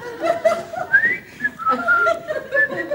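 A person whistles a wandering tune up close, several short phrases with brief pauses, no talking.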